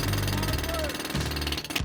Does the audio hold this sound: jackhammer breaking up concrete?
yes